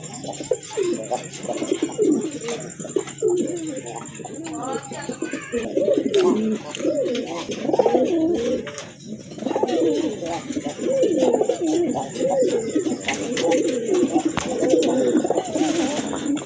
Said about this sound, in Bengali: কবুতর দেখেন কতটা অ্যাক্টিভ মাদিটা সম্ভবত ডিমে চলে আসছে